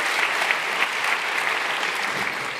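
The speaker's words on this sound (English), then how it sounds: "No clapping before lightning talk" An audience at a Python conference's lightning talk session gives sustained, even applause that fills the room throughout.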